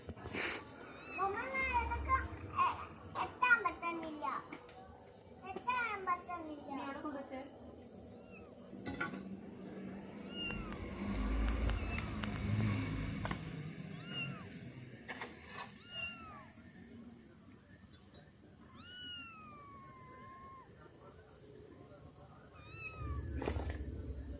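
A rescued cat meows repeatedly while eating, the cries rising and falling in pitch, mixed with clinking dishes and cutlery and occasional people talking nearby.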